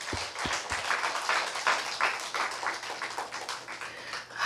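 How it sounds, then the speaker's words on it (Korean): A congregation in a Korean United Methodist church in Louisiana applauds in thanks to God after a prayer. A few low thumps at the start lead into steady, moderately loud clapping that fades slightly toward the end. "하나님께 감사 박수 올려드리겠습니다."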